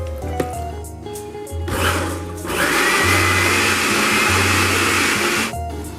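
A blender purees chile sauce with salt and a splash of water, starting after a brief pause and building into a loud, steady whirring roar that runs for several seconds before stopping.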